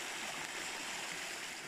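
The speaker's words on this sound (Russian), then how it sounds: "Источник обычной минеральной воды, да?" A mineral water spring flows out of the ground at a Turkish resort, giving off a steady, close, broadband rush and gurgle with no voices over it.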